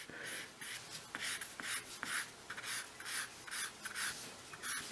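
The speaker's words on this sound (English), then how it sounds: "I want to soften that as well using the beveled edge of the blending stump" A blending stump's beveled edge rubs lightly over 2B graphite pencil marks on sketching paper, giving a series of soft, rhythmic scratchy strokes, close and fairly quiet, with no talking.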